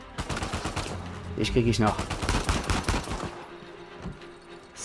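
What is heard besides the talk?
gunfire in the video game Uncharted 4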